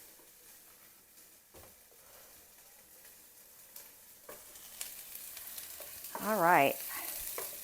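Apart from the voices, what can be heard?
onions sizzling while cooking in a pan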